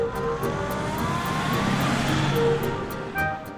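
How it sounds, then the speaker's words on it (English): A pre-war vintage car engine hums steadily with gear whine rising and shifting as it drives, a continuous close mechanical drone with no talking. "The sound of those gears is beautiful."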